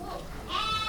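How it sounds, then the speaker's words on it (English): Goats and sheep in a ranch flock bleat nearby, a wavering cry rising in the second half of a short moment over a soft outdoor background. "That's a flock of goats and sheep"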